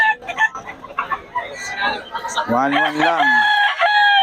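Roosters crow loudly and nearby, with chickens clucking around them at a poultry seller's yard in Bocaue, while someone talks over the birds early on.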